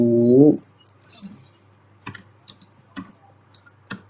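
Someone types network switch configuration commands for VLAN and trunk ports on a computer keyboard, giving sparse, crisp key clicks in small irregular bursts after a brief tonal sound at the start.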